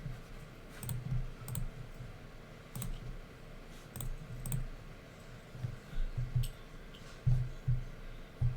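Clicky keystrokes on a computer keyboard during an online poker session, coming in irregular bursts of taps, close and moderately loud, with no voices.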